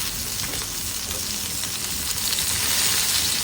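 A fish fillet fries in a hot pan with a continuous, close crackling sizzle that rises slightly toward the end, and no one speaks over it.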